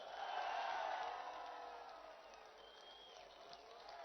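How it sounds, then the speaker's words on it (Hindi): A large crowd at Imran Khan's Eid-ul-Fitr rally at Zaman Park claps and cheers with hands raised, a loud wash of applause that swells at first and then gradually fades. "सब हाथ उठाकर तालियों की गूंज पे बताइए"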